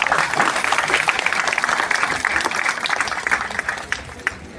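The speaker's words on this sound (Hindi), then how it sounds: "मैं चाहता हूं कि उनके सम्मान के लिए एक बार आप जोरदार ताली बजाएं" An audience at a state-level one-day event bursts into loud, sustained applause honouring the Bilasa Seva Samiti, many hands clapping densely together before it thins out at the end.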